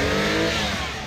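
A Suzuki Every Wagon 4x4 with a non-turbo engine revs while driving. The drone is loud and steady, close and continuous, and builds slightly before easing off near the end, with no voices.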